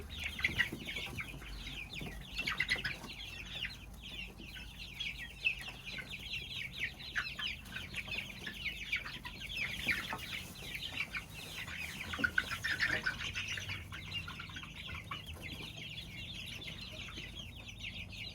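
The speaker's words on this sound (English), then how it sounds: "and here are some baby chicks." Baby chicks peeping and clucking continuously at close range, a dense chorus of high chirps over a low background hum.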